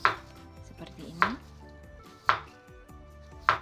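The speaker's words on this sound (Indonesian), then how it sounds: "Kentang yang sudah dikupas kemudian jangan lupa dicuci bersih lalu potong sesuai selera." Peeled potatoes being sliced thinly with a knife on a cutting board, four crisp separate chops spaced about a second apart, close and clear with no talking.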